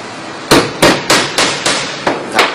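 A hammer drives a nail into a wooden board with seven sharp, loud strikes in a steady rhythm, each followed by a brief ring.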